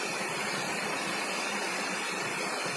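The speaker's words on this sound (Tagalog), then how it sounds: "May falls pong maliit." Small waterfall at Bantakay Falls, a steady broadband rush of falling water, constant and fairly faint with no voices.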